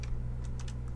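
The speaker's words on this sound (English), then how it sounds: "I'm gonna retype it out just in case the quality is a bit bad and people can't read that" Close keystrokes on a computer keyboard as launch options are entered to fix a game's DirectX issue, a few light clicks spread over a second above a steady low hum, with no voices.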